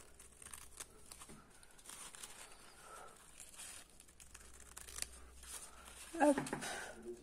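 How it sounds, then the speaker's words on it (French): Scissors snip through fabric while cutting out small cushion shapes for toy furniture, quiet close crunching cuts with faint rustling of material and soft background noise. "vous prenez un ciseau et donc vous commencez à découper."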